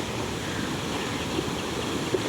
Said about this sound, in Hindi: लहरें आ रही हैं,